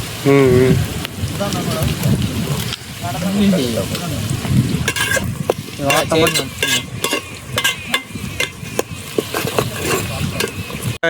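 Duck curry frying and sizzling in a pan over a wood fire, a steady crackling hiss with stirring scrapes throughout, while someone speaks over it at times.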